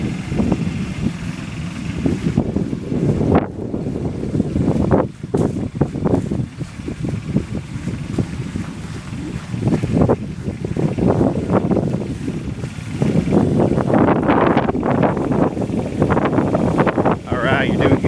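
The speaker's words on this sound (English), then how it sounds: "We got Alex driving by himself in the golf cart." A golf cart drives along outdoors with a steady low rumble heavily buffeted by wind noise on the microphone, while people talk over it at times.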